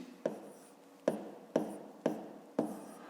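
Pen or pencil strokes during a fifth-grade maths exercise, with numbers being written down by hand: five short, crisp scratches at a steady pace, each fading quickly, close to the microphone and quiet, with no talking.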